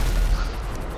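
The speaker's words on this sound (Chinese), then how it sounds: "坦克车一直狂轰墙壁是怎样？" Tank cannon fire pounding walls in GTA Online, a dense, loud, rumbling barrage of booms that fills the whole second with no talk.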